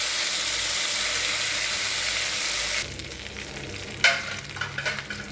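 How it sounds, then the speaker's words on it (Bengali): Prawns fry in dark oil already used for frying pointed gourd, a strong steady sizzle that drops abruptly to a quieter crackle midway, followed by a sharp stir or clatter near the end. "এখন আমি হালকা করে চিংড়িটাও ভাজবো"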